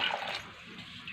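Hot water pours steadily into a pot of lentils seasoned with turmeric and salt, a continuous close splashing and gurgling stream with no voices.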